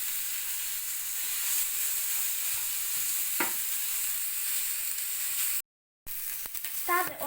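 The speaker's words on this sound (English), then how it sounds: "Stir the onions until they just soften" Onions sizzle softly in a pan while being stirred, giving a steady hiss with an occasional scrape, followed by a brief gap and a short scrape toward the end.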